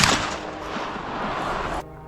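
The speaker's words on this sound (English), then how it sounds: "Gunfire echoed across the mountains as we took calculated shots" A loud gunshot during a wild boar hunt in the mountains, with a sharp onset followed by a long rolling echo that cuts off abruptly.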